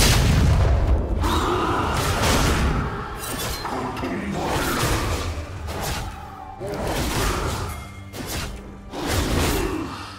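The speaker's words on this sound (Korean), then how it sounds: "파랑 팀의 포탑이 파괴되었습니다" A turret crumbles in League of Legends, with loud booming impacts, whooshes and shattering debris over about ten seconds. Heavy low rumble alongside repeated bursts of game effects, mixed with other battle noise.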